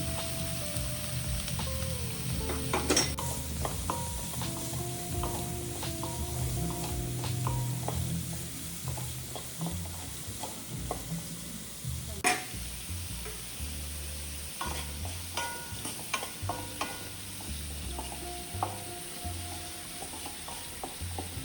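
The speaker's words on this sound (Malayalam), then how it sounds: "സവാള എല്ലാം അതിലേക്കിട്ട് നന്നായി ഒന്ന് വാടി വരുന്നത് വരെ ഒന്ന് ഇളക്കി കൊടുക്കുക" Sliced onions frying in a pan and being stirred until soft: a low, continuous sizzle with frequent scraping clinks and taps from the stirring, fairly quiet and close.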